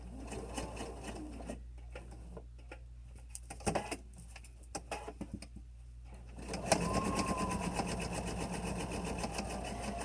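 Sewing machine stitching a face mask with a hidden removable nose wire, running in steady rapid bursts: a sustained run at the start, quieter pauses with faint clicks, then a louder continuous stretch of stitching to the end.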